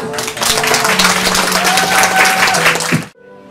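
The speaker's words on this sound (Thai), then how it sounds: "Please give a big hand clap." Audience applause and clapping at a Thai church concert after a surprise performance by two pastors, a dense steady roar of many hands for about three seconds with music tones underneath, then cutting off abruptly.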